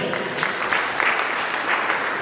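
A church congregation claps in acclamation, a steady crowd applause that carries through the whole short moment at close, even loudness.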